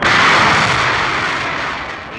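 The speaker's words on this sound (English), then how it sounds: "The escape rocket takes the capsule away from the booster." Escape rocket firing to pull a Mercury capsule off an Atlas booster: a loud, steady roaring blast that fills the clip and slowly eases in strength.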